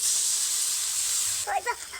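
Water splashed into a hot kadai with rice-and-potato snack mixture sets off a steady, loud steam hiss, which briefly breaks into bubbling sputters near the end.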